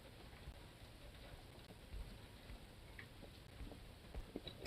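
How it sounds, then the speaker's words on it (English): Rain falls outside as a steady, faint patter and hiss, with scattered drips and occasional soft knocks. "It is really raining out there."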